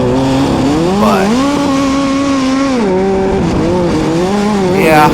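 EA Stealth race car engine roaring on a track, a loud continuous whine that rises and falls in pitch as it shifts through revs, with a brief higher squeal near the end.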